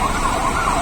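A fire truck siren wails steadily at moderate distance, its rising and falling tone running continuously over street traffic noise.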